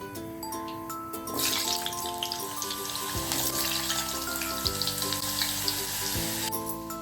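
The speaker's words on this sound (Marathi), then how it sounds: "ते साईड बाय साईड आपण तळतोय बटाटा." Potatoes frying in hot oil make a loud, bubbling sizzle that runs the whole time, with steady hissing over a low background hum and no speech.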